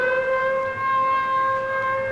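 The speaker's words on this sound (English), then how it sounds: "There goes the alert siren." A civil defense alert siren wails loud and steady, holding one sustained tone throughout with no voices over it.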